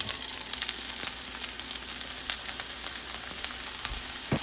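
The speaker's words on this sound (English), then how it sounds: "first I'm gonna put some oil in the skillet, and then I'm gonna add some onions" Onions fry in oil in a skillet for a seafood boil, giving a continuous crackling sizzle with scattered pops, close up and with no one talking.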